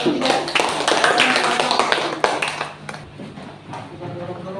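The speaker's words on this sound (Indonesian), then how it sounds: "Tepuk tangan," Students in a classroom clap for a presenting group, a dense burst of applause that fades toward the end, with voices mixed in.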